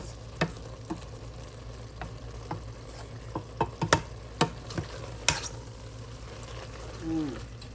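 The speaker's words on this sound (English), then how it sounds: "We'll give it another stir" Black pepper being stirred into lasagna sauce in a pot, with soft scraping and a few light clicks of the spoon against the pot over a low background hum, close and fairly quiet.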